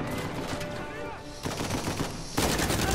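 Rapid bursts of video game gunfire during a jail escape in Uncharted 4, dense and continuous over a busy background of game sound.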